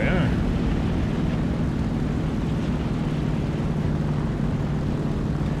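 Airplane engine in War Thunder during takeoff, a loud, steady droning roar that fills the whole stretch with little change, and a voice talks over it.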